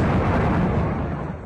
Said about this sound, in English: Blasts and sirens in Khan Yunis, the now familiar sounds of war inside this ancient city